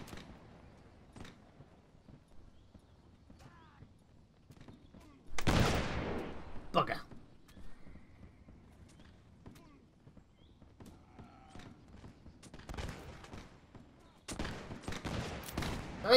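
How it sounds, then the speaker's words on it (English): Musket volleys crack out in a Mount & Blade battle, two loud ragged bursts of gunfire standing out against quiet stretches with scattered distant shots and someone talking. "I'm gonna shoot that dragoon."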